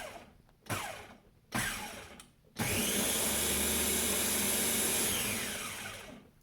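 Kitchen blender whirring steadily as it blends oats and water into homemade oat milk, a towel over the lid; a few short bursts come first, then a loud continuous run that begins to fade near the end.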